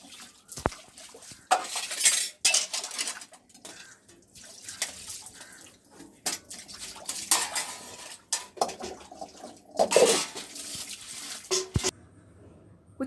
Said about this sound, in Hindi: कुछ बर्तन मैंने बाथरूम में धोया